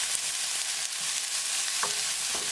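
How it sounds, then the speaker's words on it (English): Onion sautes in oil in a pan for chicken tikka curry, a constant bright hiss of frying with a couple of soft stirring scrapes, near and steady, no one speaking. "we're going to saute onion really well"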